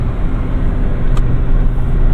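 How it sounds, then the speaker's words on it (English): A Chevy Silverado LT Trail Boss with a 6.2-liter V8 drives along, its steady low engine rumble and road noise filling the cabin continuously without pause. "I'd say my favorite thing about this truck is probably the engine sound"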